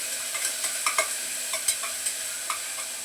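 Onion and tomato frying in a pan for a dry vegetable dish, stirred with a utensil: a steady sizzle runs throughout, with a string of small scraping clicks from the stirring and no voices.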